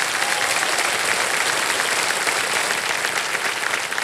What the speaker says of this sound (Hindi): गौरांग जी के लिए एक बार ताली बज जाए।